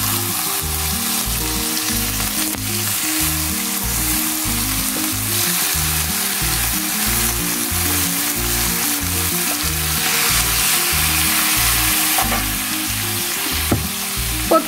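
Steaks sizzle loudly in a hot pan where garlic has already fried, a continuous crackling hiss with pulsing bubbling underneath, steady and close throughout with no talk.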